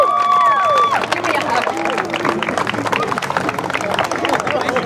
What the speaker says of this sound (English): let's give one more round of applause for all of our senior Crusaders this evening